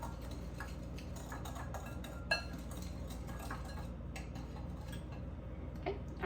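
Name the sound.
mixing cornstarch and sugar in a bowl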